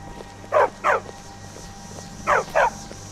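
Dog barking in the video game Skyrim, set in Riverwood: two pairs of quick, clear barks, each pair evenly spaced, heard close and alone over a low steady ambient hum.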